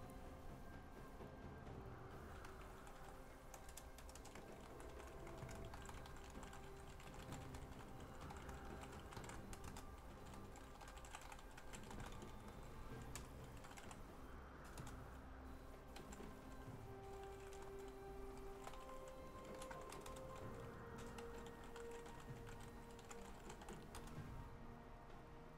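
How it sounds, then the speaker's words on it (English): Steady typing on a computer keyboard, quick clusters of soft key clicks continuing for a long stretch at low volume, close by, with no talking. "let me type real quick"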